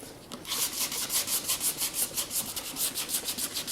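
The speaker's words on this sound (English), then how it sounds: "I'm also going to give a general key to the paint that doesn't have any rust on it." Rapid rhythmic back-and-forth sanding strokes scuff the paint on a steel wheel, close and continuous for a few seconds with no voices.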